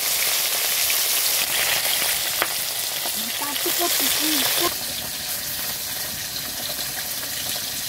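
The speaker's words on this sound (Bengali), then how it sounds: "আগে প্রথমে মাছগুলো সব ভাজা করে নিব ঝাল দেওয়ার জন্য" Bata fish from a pond frying in a pan, a steady close sizzle with crackling spatters and a faint voice partway through, the hiss easing slightly toward the end.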